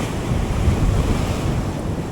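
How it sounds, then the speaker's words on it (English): Heavy ocean waves pound the beach while strong wind roars across the microphone, a loud, dense, unbroken rumble with no voices. "Not loving the pounding waves, pounding wind."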